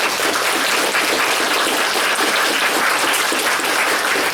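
Loud, dense applause from a university lecture audience at a memorial lecture fills the room steadily and without a break, with no voices standing out.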